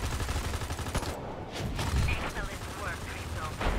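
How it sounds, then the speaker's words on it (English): Rapid bursts of gunfire in the video game Destroy All Humans 2 Reprobed, clattering shots layered with game sound effects under a player's voice. "Ooh, bullets. Shooting."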